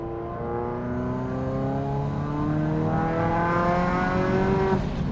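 A turbocharged Toyota GT86/Subaru BRZ engine revving steadily upward under acceleration, a continuous rising drone heard close from the cabin, briefly dipping at the end.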